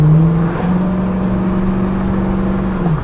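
A 1979 Pontiac Trans Am engine drones steadily while driving, a loud, close, even hum holding one pitch for several seconds before easing off at the end.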